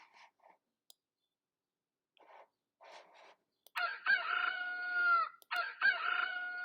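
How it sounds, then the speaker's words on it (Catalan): A psychedelic rooster character in a Scratch animation plays a rooster crowing sound effect twice, a loud drawn-out cock-a-doodle-doo, after a few soft clucks and clicks. "toca el so rooster"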